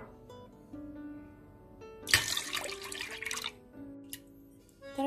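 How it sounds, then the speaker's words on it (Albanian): Milk poured into water for a cake cream, a short splashing pour near the middle against quiet background music, with a faint drip after it and no talking. "Në një ujë hedhim qumështin."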